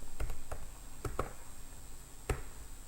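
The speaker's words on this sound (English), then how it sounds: "So for that I need to type subject" Typing on a computer keyboard while entering a database query: a few separate key clicks spaced irregularly over a steady background hum, fairly close and quiet, with no talking.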